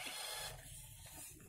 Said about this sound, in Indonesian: kita tekan fit dan power secara bersamaan ya. Ya, dia akan keluar test print.